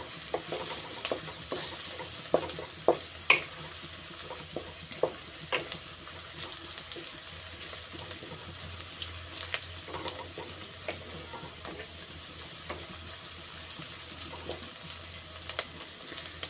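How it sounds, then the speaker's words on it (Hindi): Onion and green chilli frying in a pan for noodles, a soft continuous sizzle broken by repeated close clicks and scrapes of a stirring spoon against the pan, with no voices. "हमें ज़्यादा फ्राई नहीं करना है इसे, बस थोड़ी देर के लिए फ्राई करना है।"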